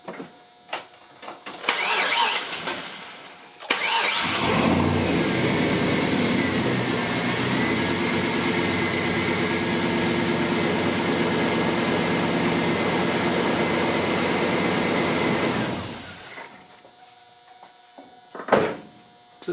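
A 2003 Chevrolet Silverado 1500's engine, just fitted with a replacement alternator, turns over, starts, and runs with a steady loud roar and hum for about twelve seconds before shutting off, with brief clatter around it.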